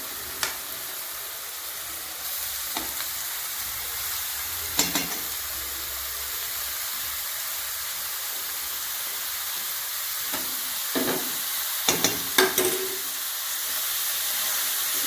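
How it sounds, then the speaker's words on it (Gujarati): Onion and shredded cabbage for cabbage momos sauté in a hot pan with a constant bright sizzle, broken by several sharp scraping stirs and pops, with no voices over it. "હવે આ ડુંગળી અને કોબીનું છીણ નાખી દઈશું।"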